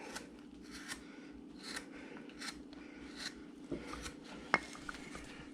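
A blade makes small, repeated scraping cuts into wood while carving a Santa figure from a bandsaw blank, soft close scratchy strokes in an irregular rhythm with one sharper tick.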